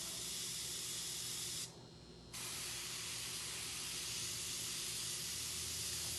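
An airbrush sprays paint onto a hoodie in a steady, loud hiss that stops briefly partway through, then resumes continuously to the end.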